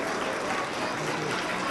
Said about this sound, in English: give a round of applause for our teachers